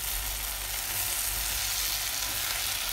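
Potatoes, onions and tomatoes sauté in a pan for poori masala, giving a continuous, close, even sizzle with no talking.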